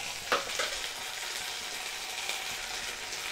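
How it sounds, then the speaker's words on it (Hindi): Garlic-ginger paste hits hot oil with fried onions and sizzles strongly, a broad steady hiss with a sharp burst at the moment it goes in and light stirring scrapes, close and alone. "यहाँ पे मैं 1 टेबल स्पून लहसुन अदरक का पेस्ट डाल रही हूँ।"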